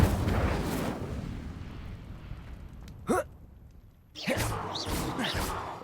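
An Incendio fire spell is cast in the video game Hogwarts Legacy, with a rushing burst of flame among game effects, a sharp crackling pop midway, then another loud fiery whoosh, close and full, over rumbling background noise.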